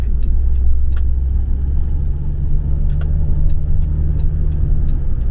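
A used Toyota Camry running on injected LPG drives off, its engine a steady loud low rumble with repeated sharp clicks and ticks over it and no talk.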